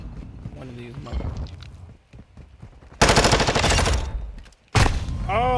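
Sniper gunfire in a multiplayer shooter game: two loud, sharp broadband bursts cut in partway through, each ringing out briefly, with talk in the clip.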